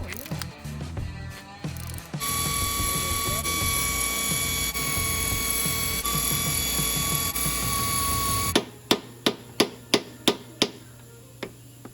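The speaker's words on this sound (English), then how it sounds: "then we move to taking off these head bolts" Head bolts come off a Chevy 305/350 small block engine. Brief talk at the start gives way to a loud, continuous power-tool whine for about six seconds, then roughly eight sharp, evenly spaced ratcheting clicks close by.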